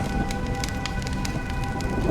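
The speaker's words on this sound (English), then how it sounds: "When will this rain ever stop?" Steady rain pouring in Honkai: Star Rail, a dense, even hiss of drops on surfaces with no voices, close and constant through the short stretch.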